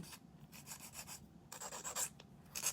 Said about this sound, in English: Just parallel and file them just nice and straight.